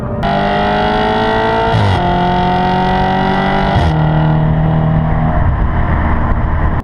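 A 2013 Audi RS5 engine revs hard toward redline, rising in pitch through repeated pulls with brief dips between shifts, loud and close, no voices.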